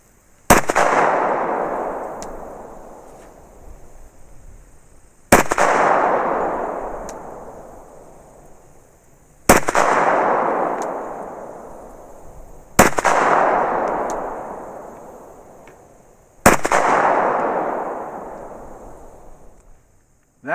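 Five loud gunshots from a Glock 41 firing Polycase ARX .45 ACP ammunition, each a sharp crack followed by a long booming decay, spaced roughly four seconds apart with no talking.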